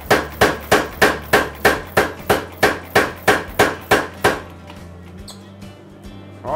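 A power hammer forges the bevels of a knife blade on hot steel, pounding out about a dozen loud, evenly spaced blows before stopping, leaving a low hum and faint clanks.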